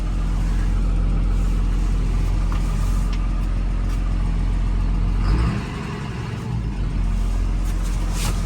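A John Deere 7430 Premium tractor engine runs close by with a steady, loud low rumble and whir that drops off suddenly partway through and then continues more quietly.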